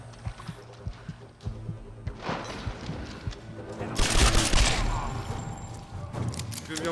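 Gunfire from the Tomb Raider video game rattles in sharp bursts, isolated shots giving way to a denser, louder volley midway, mixed with hoof-like clatter and other game effects.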